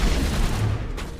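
Shotgun gunfire in the Call of Duty Vanguard video game, a dense, loud burst of close blasts that fills the whole moment with heavy booming reports.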